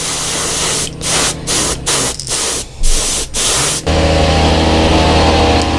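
Spray gun painting a fishing bait, several short loud hissing bursts in quick succession followed by a longer continuous spray with a steady compressor hum underneath, close and without talk.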